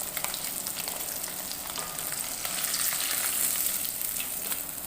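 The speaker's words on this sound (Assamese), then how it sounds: "মাছখিনি এনেকৈ কমকৈ দি ভাজিছোঁ" Small fish fry in oil in a pan, a steady close crackling sizzle that holds at an even level throughout with no talking.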